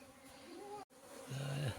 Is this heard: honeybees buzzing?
yes